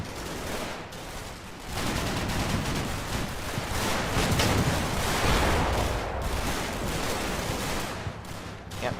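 A machine gun in Combat Mission: Battle for Normandy fires in dense, rapid bursts amid a continuous crackling fusillade of other gunfire, loud and sustained with brief lulls between volleys.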